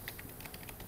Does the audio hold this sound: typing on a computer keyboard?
yes